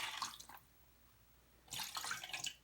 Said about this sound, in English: So now I'm going to put a little water in here, you know, to keep it moist.